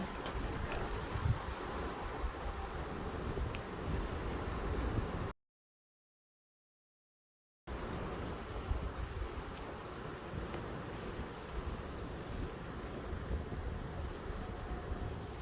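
Strong gusts from Storm Larisa batter Mérignac, a dense, roaring rush of wind that surges and eases unevenly, with a short silent gap partway through.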